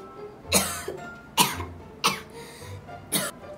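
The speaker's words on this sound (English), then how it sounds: "please cover your mouth when you cough." Four sharp coughs from a child, close by, spaced about half a second to a second apart, each a short harsh burst.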